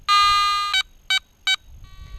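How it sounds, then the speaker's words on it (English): Metal detector finishing its frequency scan: one long bright electronic tone followed by three short evenly spaced beeps, then a quieter lingering tone, clean and close. "The beep, beep, beep."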